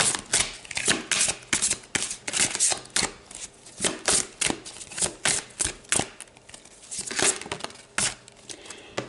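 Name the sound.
shuffling tarot cards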